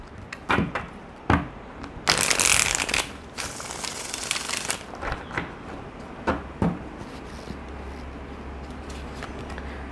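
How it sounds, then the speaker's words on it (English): Tarot cards are shuffled in a quick run of crisp riffles and snaps, with a dense flurry in the middle between softer scattered taps, close and alone with no voices. "Okay, let's get one shuffle, please."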